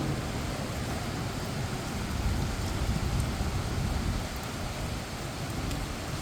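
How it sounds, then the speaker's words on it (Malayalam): Heavy rain pours down in Kochi beside a block of flats, a dense, steady roar of downpour that holds evenly throughout, with no voices. "ഇപ്പം മഴയുടെ ശക്തി അല്പം കുറഞ്ഞു"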